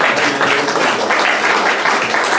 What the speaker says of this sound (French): Vous pouvez l'applaudir, merci.